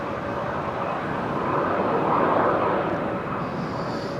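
An airliner arriving from Atlanta, Georgia, lands at Amsterdam Schiphol Airport on a windy, showery day. Its distant engine roar swells gently in the middle and then eases under steady broadband wind noise.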